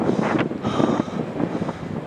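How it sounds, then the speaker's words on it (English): Wind buffeting a microphone outdoors at Beacon Hill fort near Harwich, Essex, a loud continuous rumbling gusty roar with uneven swells. "Sorry about the wind."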